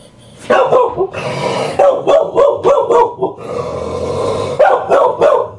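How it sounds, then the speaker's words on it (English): A dog barks repeatedly at close range in sharp bursts, mixed with growly yips and brief gaps between them. "It's me she's barking at."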